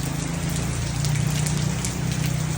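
Heavy rain heard from inside a mall, a steady, unbroken wash of falling water with a low hum underneath, even and continuous throughout.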